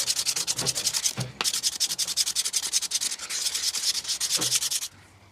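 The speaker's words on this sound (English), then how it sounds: "now we're on to the 240 grit sanding" Sandpaper of 240 grit rubs steadily over a handmade wooden slingshot in quick, close back-and-forth strokes, with two brief pauses before the sanding stops near the end.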